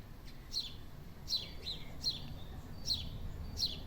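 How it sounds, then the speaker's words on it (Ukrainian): Pigeon chicks chirp while being fed outdoors in a garden, giving high, thin peeping calls in a loose rhythm of about six short bursts, faint to moderate over low background noise and with no speech. "Корми своїх голубят."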